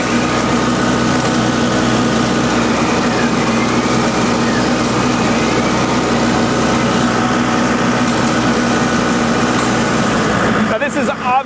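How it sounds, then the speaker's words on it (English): Laneshark Hammerhead mower attachment run vertically to trim back trees along a yard line, a loud, steady engine drone with whirring blades holding constant for about ten seconds before briefly changing at the end. "we can use it here vertically just to drive right down this line and trim up all these trees that are growing out into the yard"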